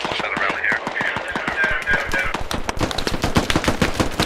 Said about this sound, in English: Yeah, that was definitely an AK.